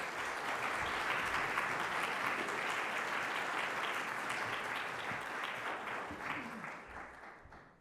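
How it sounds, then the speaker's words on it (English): A warm round of audience applause at an anniversary gathering, broad and continuous at moderate distance, slowly thinning toward the end. "Please, a warm round of applause for Ms. Lopez"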